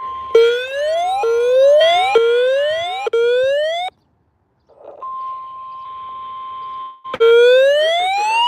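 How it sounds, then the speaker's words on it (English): A weather radio station's public warning system test sends repeated rising warbling siren-like sweeps over a steady alert tone, then pauses, holds a plain single tone for a couple of seconds, and resumes the warbling. "The preceding signal was a test of weather radio station KHC-27's public warning system."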